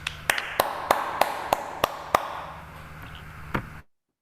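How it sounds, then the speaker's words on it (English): A lecture audience at a management course giving a round of applause, heard as a handful of sharp, evenly spaced claps that fade out, followed by one last isolated clap before silence. "So let's give Miriam a round of applause."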